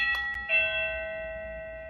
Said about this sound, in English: my doorbell. I got it off Amazon. It plugs up in the wall, and I just press it.